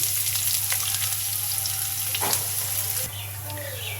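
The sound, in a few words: onions frying in oil in a pan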